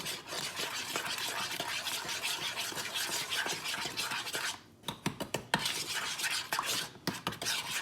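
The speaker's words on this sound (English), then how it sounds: "we're gonna mix this together" Ingredients being mixed in a bowl, a continuous scraping, stirring rasp that breaks after a few seconds into a run of distinct utensil knocks and scrapes against the bowl, close and clear.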